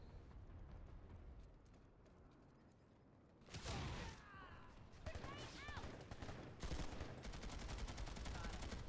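Gunfire in a team shooter game: rapid bursts and fusillades break out after a quieter opening, with dense automatic fire and sharp impacts. Players' voices are heard alongside.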